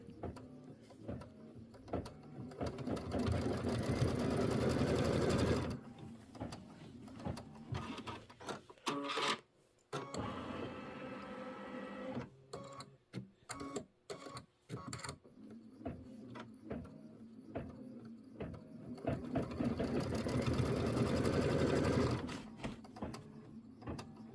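A sewing machine stitches quilt squares in long, steady bursts of rapid mechanical whirring, broken in the middle by stops, short starts and clicks before it settles into another long continuous run.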